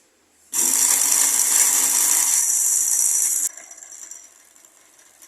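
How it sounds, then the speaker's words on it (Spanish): A LEGO electric motor turning a gear transmission whirs loudly and steadily for about three seconds, then cuts off, leaving a faint rattling of gears winding down. "Y ahora alimento el motor."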